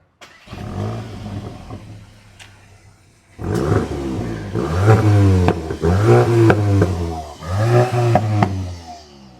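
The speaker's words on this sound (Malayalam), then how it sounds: "അതിൻ്റെ ഒരു എക്സോസ്റ്റ് നോട്ട് ഞാൻ നിങ്ങളെ കേൾപ്പിക്കാം" Volkswagen Golf GTI with a dual exhaust starts with a quick low rumble, then after a pause gives several loud close revs that rise and fall, each a throaty sweep with some clatter at idle between them.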